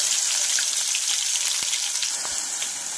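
Masala spices frying in hot oil with a bay leaf in a kadhai for egg curry, a continuous bright crackling sizzle with a few faint pops, close and even throughout.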